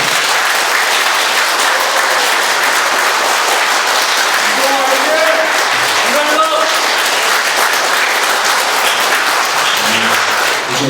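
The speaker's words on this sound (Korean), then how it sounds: "지금까지 국민들을 위해서 열심히 일하시는 우리 윤정호 후보님께 다시 한번 큰 격려 박수 부탁드립니다" An audience at a candidate's press conference applauds in a dense, continuous burst of clapping that fills the room for about ten seconds, with a few voices faintly underneath.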